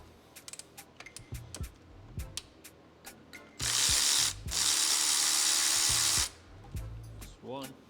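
A ratchet clicks in short, quick bursts, then spins in two long, loud runs while removing the bolts that hold the oil cooler to the oil filter housing of a 2007 BMW 530xi.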